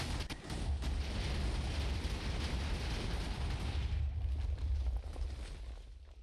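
A deep, rumbling video game explosion bursts out, followed by a long, dense roar of debris and echoing noise that slowly thins out.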